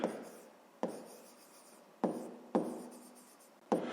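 Handwriting a grade 5 math solution about cube volumes, likely pen on paper, with five distinct scratchy bursts, each starting with a sharp attack and trailing off into soft continuous scribbling, close and quiet with no talk.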